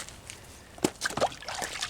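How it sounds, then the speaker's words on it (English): A brick dipped into a bucket of water, giving a short splash and slosh followed by light trickling and dripping, close and moderately quiet, with no talking. "Dip it in the water."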